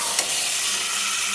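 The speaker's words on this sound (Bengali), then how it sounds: "এমনিতেই হিট কমিয়ে রেখে কষাবো।" Chicken being sautéed in a pan on low heat, uncovered, for a Bengali chicken kosha: a steady, soft sizzle and hiss throughout, with one brief stir or scrape near the start and no talking.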